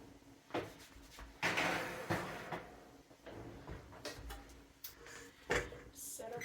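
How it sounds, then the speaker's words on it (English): A muffin tray slid into a home oven and the oven door shut, heard as a few soft knocks and a scraping slide with a dull thump, fairly quiet, mixed with light kitchen handling and some talk. "So we'll throw this in the oven."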